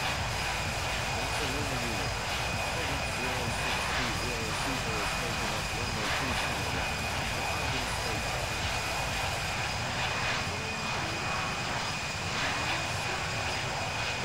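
Airliner jet engines roar steadily at takeoff power in the Infinite Flight simulator, a loud continuous wash of engine noise that holds throughout, with a voice talking over it at times.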